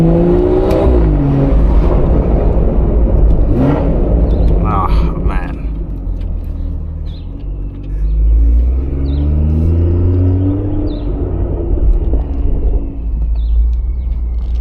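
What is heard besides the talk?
BMW 440i engine with downpipe and midpipe exhaust revving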